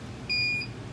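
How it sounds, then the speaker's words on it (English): A Zosi security DVR gives a single clear electronic beep lasting about a third of a second as motion detection triggers, close and loud over a quiet room background. "And there she is, she's beeping now."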